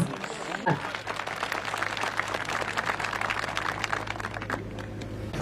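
Welcoming applause for an Adana member of parliament at a rural solar-panel and calf-feed distribution event in Kozan, a moderate crowd clapping steadily for about four seconds after a speaker's voice, then tapering off.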